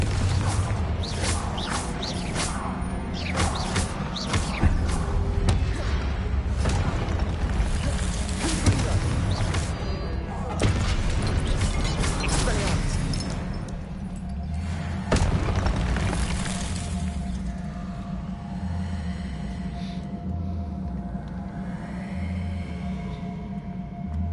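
Blasting-spell explosions from the Confringo curse in Hogwarts Legacy: repeated deep booms and bursts over a rumbling game soundscape, loud and sustained with several sharp impacts in the first half.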